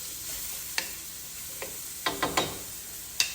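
Onion, yellow and green pepper and about four cloves of garlic sauté in a pan, a quiet steady sizzle punctuated by several sharp spoon taps and scrapes as the mix is stirred.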